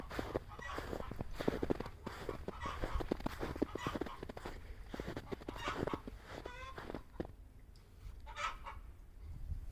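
Chickens cackle and cluck loudly in a backyard coop while laying eggs, a dense, busy run of overlapping squawks and honking calls that thins out briefly before another burst.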